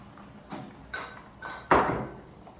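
A knife cutting an onion for egg soup, four crisp chopping knocks on a board spaced about half a second apart, the last one the loudest, with quiet room tone between.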